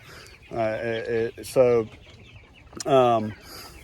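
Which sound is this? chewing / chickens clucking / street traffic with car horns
chickens clucking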